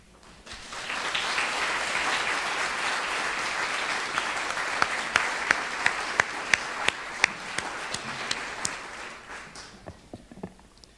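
Audience applause at a literary awards ceremony, dense and sustained for about ten seconds, with a few sharper individual claps standing out before it fades near the end.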